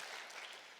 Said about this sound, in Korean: 우리 우즈만 스탠 박수로 저희가 환영하기 원합니다